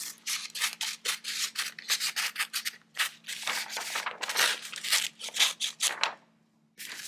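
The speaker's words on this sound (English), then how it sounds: "So right along the top edge, you want to cut that all the way across." Scissors cutting along the top edge of thermal printer tattoo stencil paper, a close series of crisp, rapid rasping snips with short pauses, ending in a brief silence before another cut.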